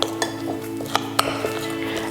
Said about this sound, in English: And I'll just keep stirring until it comes together.